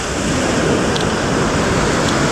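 Ocean waves crash and churn steadily on Vilano Beach, a continuous loud, broadband wash of surf with no pause, close by and alone.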